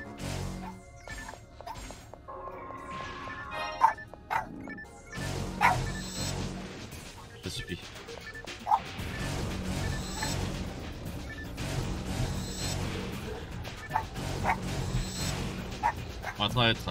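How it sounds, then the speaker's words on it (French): A small dog yaps and barks repeatedly in the background behind someone talking, over the sounds of a Phantasy Star Online Blue Burst game, with sharp intermittent yips scattered through the clip. "il y a un petit toutou qui aboie derrière moi"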